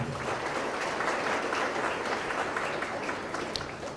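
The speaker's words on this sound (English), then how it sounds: "Give yourselves a round of applause." Steady applause from an audience at an annual awards banquet fills the room, a dense, even wash of many hands clapping without voices.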